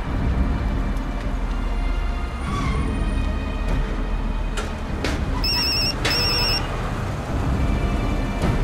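A telephone bell rings in a tense police drama scene, with repeated bursts of ringing over a steady background rumble, loud and close.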